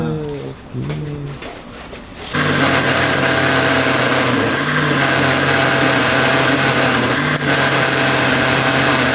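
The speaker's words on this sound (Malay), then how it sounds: "saya blender sebab apa blender tu kita boleh dapat dia punya santan tu lebih lagi" A blender kicks on after a few seconds of talking and then whirs loudly and steadily until the end, blending coconut to extract coconut milk.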